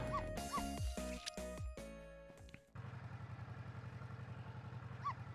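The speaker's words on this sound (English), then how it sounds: "I barked. You bet I did." A dog in the Ghost Trick video game gives a quick string of sharp, yipping barks, then the barks stop and a low, steady engine-like hum takes over.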